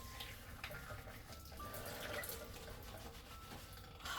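Faint, steady rush of tap water running into a sink during a hair wash, soft and continuous with no voices.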